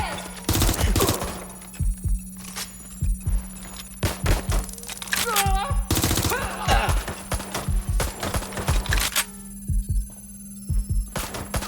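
Rapid bursts of automatic gunfire and single shots in the Watch Dogs Legion video game, loud and close, with ringing electronic tones between volleys and brief shouted game dialogue.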